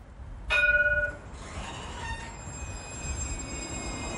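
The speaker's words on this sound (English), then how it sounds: "near St. Stephen's Green, where the Lewis tram makes a stop near Grafton Street" A Luas tram in Dublin, stopping near Grafton Street by St. Stephen's Green, gives a brief bright bell-like chime, then a steady rumble of wheels and a faint high squeal from the rails.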